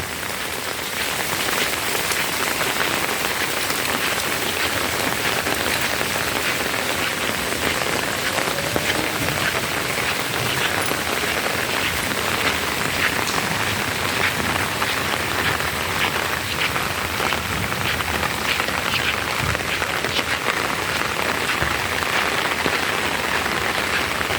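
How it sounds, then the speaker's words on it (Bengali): Constant rainfall patters densely on nearby surfaces, a loud, even wash of drops lasting throughout without any voices. "বৃষ্টি মাঝে মাঝে বাড়ছে কমছে"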